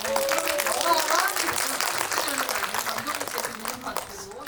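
A film Q&A audience applauds, a moderate burst of clapping that is loudest at the start, tapers gradually and runs under a speaking voice.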